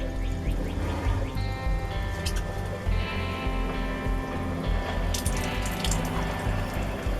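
A water pump on a camping trailer drawing from its water tank: a continuous low humming drone with watery trickling and splashing on top, steady throughout, with no talking.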